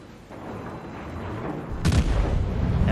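Naval gunfire in a warship video game, a deep rumbling boom that hits sharply near the end and rolls on loud and low after a building background roar, with no talking.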